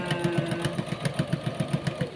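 Home sewing machine running with an uneven, faltering motion while stitching pajamas: a steady mechanical whir with regular rapid needle thumps, close and fairly loud, with no talking.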